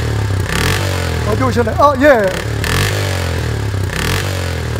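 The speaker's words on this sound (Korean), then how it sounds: "오토바이 타고 오시네요" A large 1000cc motorcycle pulls up at a church service. Its engine revs in quick rising and falling bursts beneath a low idle, while someone talks over it.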